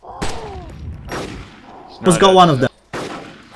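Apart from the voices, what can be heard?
gunfire in video game Arma 2 DayZ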